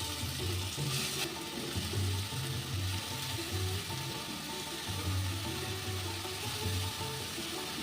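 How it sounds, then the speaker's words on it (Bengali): Grated beetroot and carrot frying in hot ghee in a kadai, a steady close sizzle with soft bubbling and light stirring scrapes, no voices. "এবার দিয়ে দিচ্ছি গ্রেট করা বিট গাজর"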